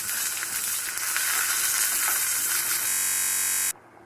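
Curry leaves crackle and sizzle loudly in hot oil with small cinnamon pieces. The hiss is close and steady, then cuts off abruptly near the end.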